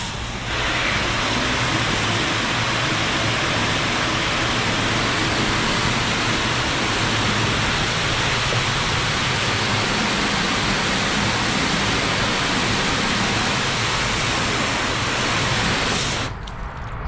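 A garden hose sprays water steadily onto a car's coated paint, giving a loud, continuous hiss that holds for most of the stretch and stops abruptly at the end.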